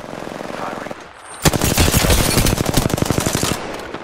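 Loud, rapid machine gun fire in a video game bursts in after a quiet lead-in, a tight rhythmic stream of shots lasting a couple of seconds before cutting off.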